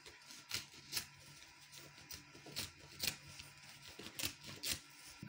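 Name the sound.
scissors cutting leftover Ankara fabric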